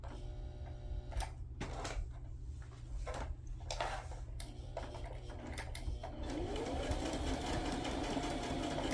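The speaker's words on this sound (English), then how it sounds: "Just coming over here to my sewing machine." A home sewing machine runs in steady bursts of mechanical whirring and clicking, close by, with short pauses between stitching runs and a louder continuous run toward the end; no talking.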